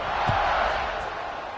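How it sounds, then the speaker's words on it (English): Crowd noise in a football stadium after a touchdown drive, a broad roar that holds steady for a moment and then eases slightly, with a brief low thud near the start. "this crowd is feeling themselves after that last drive"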